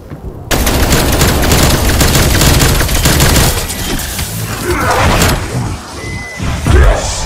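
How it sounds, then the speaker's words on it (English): A frag grenade blast and rolling gunfire in Black Ops Cold War Zombies on the Firebase Z map: a sudden loud burst opens a sustained barrage, then the shots thin into scattered thuds and booms. "Throwing frag grenade."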